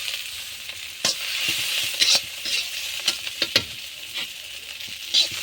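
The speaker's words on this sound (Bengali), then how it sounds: "এই যে আমি এখন শুকনো শুকনো করে ভেজে নিয়েছি।" Ivy gourd leaves are stirred and dry-fried in a pan, with a continuous close sizzle broken by irregular scraping knocks of the spatula.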